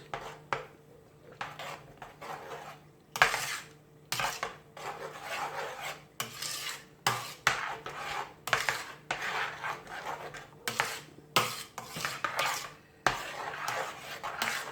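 Multani Sohan Halwa mixture with sugar and cocoa powder being stirred in a pan: repeated close rasping scrapes of a spoon against the pan, coming roughly once a second in a steady rhythm.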